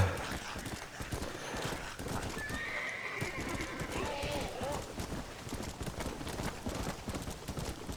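Rhythmic hoof clip-clops from a horse in Red Dead Redemption run steadily throughout, with a horse's neigh rising briefly in the middle, all at moderate loudness.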